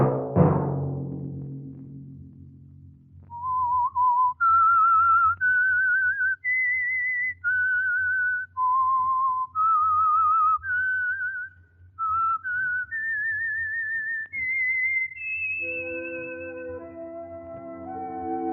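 The eerie whistled theme of the radio program The Whistler, a lone human whistle carrying a slow melody of sustained, wavering notes that climb step by step, then resolve into a low orchestral chord.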